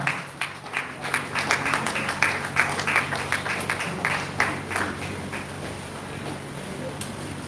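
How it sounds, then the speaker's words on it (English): An audience in a hall at a Lagos HIP Week 2025 celebration for health information management professionals claps for a guest, a moderately close patter of uneven claps that thins out toward the end, with voices underneath. "Let's clap for her. Let's clap for her."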